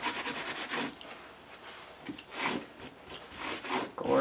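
Brisk rubbing and brushing strokes wiping sanding dust off a textured mixed-media artwork, several rhythmic swipes with short pauses, close and fairly quiet.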